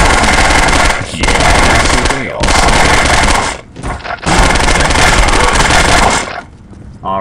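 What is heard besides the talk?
machine gun firing in the video game Postal 2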